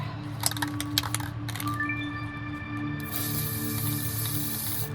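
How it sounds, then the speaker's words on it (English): A steady broadband hiss of Rust-Oleum Universal Forged Hammered spray paint starts partway through and continues strongly to the end, following some scattered clicks and rattles. "Wow, that is a strong spray. Stronger than I thought it would be"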